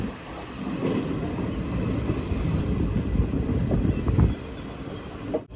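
Pune Superfast train pulling into platform 1 at Mangaluru Junction, a steady loud rumble of wheels and carriages with faint clatter, continuous and close, no voices.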